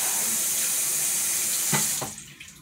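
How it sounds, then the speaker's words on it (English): Dishes are washed under a running kitchen tap, a steady close rush of water with a couple of soft knocks near the end before the flow cuts off. "Make sure you wash the dishes."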